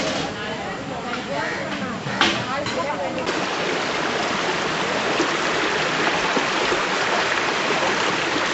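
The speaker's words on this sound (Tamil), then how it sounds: "நாங்க ஒரு ஓடையை கண்டுபிடிச்சிட்டோம்." A woodland stream flows steadily with broad, continuous rushing water, close and loud, with a brief splash near the two-second mark while faint voices come through early on.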